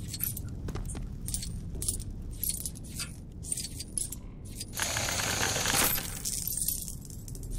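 Keys jangling in the Lego Harry Potter video game, a bright metallic rattle of small chimes heard in scattered bursts, with a denser, louder jingle near the end and no talking.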